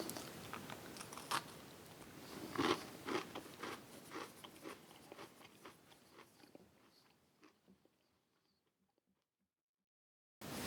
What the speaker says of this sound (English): Super satisfying crunch from those par-baked graham crackers. Perfectly snappy toffee, not too hard, not too soft.